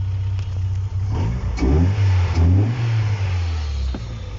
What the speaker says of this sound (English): As you can see, it's idling in my car comfortably, no problems.